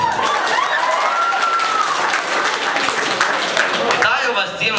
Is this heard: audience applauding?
yes